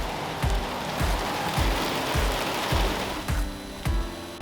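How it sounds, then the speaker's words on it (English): Steady rain pours down in the French Quarter of New Orleans, a dense close hiss of drops on surfaces with a regular pattern of heavier spattering bursts, no voices heard. "This rain is not quitting."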